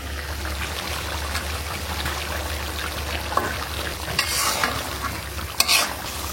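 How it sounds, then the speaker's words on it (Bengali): Chicken curry being sautéed and stirred in a pan for a birthday meal, heard as a continuous close sizzle with scraping spoon strokes and a few sharper clanks near the end, with no talking. "ভালো মতো কষাইলাম, আর একটু কষায় পানি দেবো"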